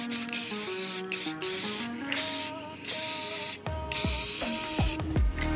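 A homeschool desk gets spray painted moss green: close, loud hissing spray bursts that start and stop repeatedly, with steady tonal sound running beneath.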